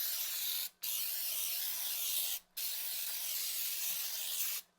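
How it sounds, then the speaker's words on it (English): Three long hissing bursts of aerosol cooking spray onto a baking dish, each lasting over a second with brief pauses between, close and steady. "what I'm doing now is just spraying my dish"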